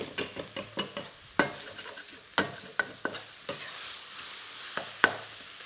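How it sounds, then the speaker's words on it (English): A kimchi and pork stir-fry bubbles in a wok, with a spatula clacking and scraping in quick irregular strokes over a constant sizzle, close and fairly quiet. "just let that come to a vigorous boil, and then every sort of 10, 15 seconds, give it a little fold through, a little stir through"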